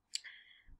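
A single faint, close computer mouse click, crisp and brief, followed by a soft low thump.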